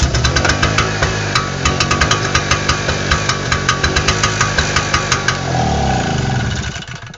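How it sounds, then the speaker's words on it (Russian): A 1 kW gasoline generator engine running under repair, loud and close with a steady pulsing drone and regular rhythmic ticking, the tone shifting slightly near the end. "генератор работает"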